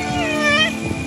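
A single short meow from a rescued street cat, near and clear, rising and falling over a faint steady hum, with no voices.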